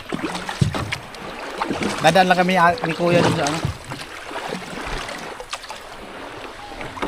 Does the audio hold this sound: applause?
no